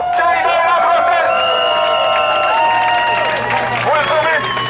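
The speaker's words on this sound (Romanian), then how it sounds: "Aplauze pentru cei doi la protest!" A protest crowd applauds and cheers, with loud whistles and whoops over dense clapping and chatter throughout.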